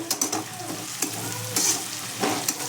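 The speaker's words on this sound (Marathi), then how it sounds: "तेल टाकले, त्याला आता मिक्स करून घेऊया." Ginger, garlic and onion being stirred while they fry in oil in a home kitchen, with a steady close sizzle and intermittent scraping stir strokes, no talking.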